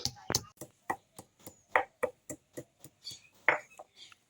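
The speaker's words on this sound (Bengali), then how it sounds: "এইবার আমি এইগুলো থেতো করে নেব।" Soaked pieces of green coconut being pounded into a mash in a home kitchen: about a dozen sharp, evenly spaced thuds, close and crisp, with no talk over them.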